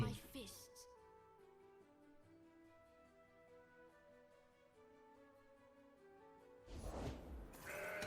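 A mountain goat bleats as a game sound effect in Legends of Runeterra, heard over steady tonal game music before a louder burst of effects near the end.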